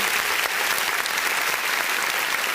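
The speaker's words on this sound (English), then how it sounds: "A better clap for the chief guest." A crowd claps for the chief guest at a polytechnic alumni launch in Nyeri, Kenya, with steady, dense applause filling the whole stretch at even loudness, without pause.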